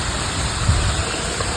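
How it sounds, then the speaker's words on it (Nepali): Water from a waterfall in a Japanese garden pours in a steady, dense rush, continuous and fairly loud with no voices. "कति राम्रो खुबसुरत झरना"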